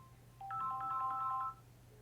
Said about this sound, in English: Now sometimes you might want to decline the incoming call.